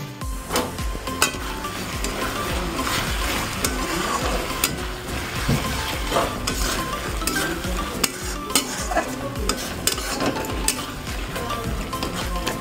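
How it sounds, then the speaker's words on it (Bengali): Spices stir-fried in a pan for a meat curry: steady loud sizzling and frying with repeated scraping and stirring strokes throughout, no voices. "মাংসের জন্য দেখতে পাচ্ছ মশলা কষছি"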